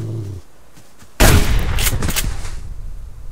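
A rifle gunshot in the survival video game Subsistence, a single loud, close blast that ends a quiet lull and rings out into a long, rumbling decay.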